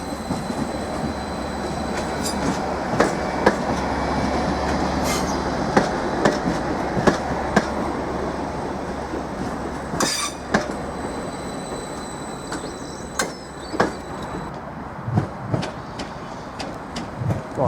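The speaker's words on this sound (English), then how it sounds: "we've got another Class 755 Flirt unit approaching the station" A Class 755 Flirt unit rolls into Norwich station with a continuous rail rumble, sharp clicks and squeals from the wheels, and clatter that grows sparser as it slows.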